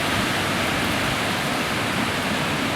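Hurricane Matthew winds and surf at a beach, a loud unbroken roar of gale-force wind and crashing waves filling the whole stretch with no voices.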